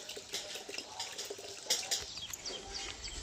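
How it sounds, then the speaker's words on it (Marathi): Water runs into a cattle trough, a faint, uneven splashing and trickle with small drips and a brief bird call in the background. "आता पाटीत पाणी लावले आता पाटी पूर्ण भरून घेते"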